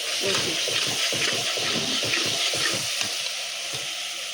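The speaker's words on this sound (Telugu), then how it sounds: "నలభై గ్రాములు అల్లం కొంచెం గోలాలి అల్లం పచ్చివాసన పోయేంత మనం గోలాలి" Forty grams of ginger frying in a pan as the first step of a wedding-style mutton curry, a steady dense sizzle with stirring clatter running throughout.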